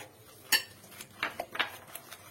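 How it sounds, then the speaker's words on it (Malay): Hand stirring of tart dough in a bowl, with a few light clinks and scrapes of a utensil against the bowl spaced irregularly, close and quiet. "Ini kita kacau, tak perlu pakai mixer, pakai begini saja ni."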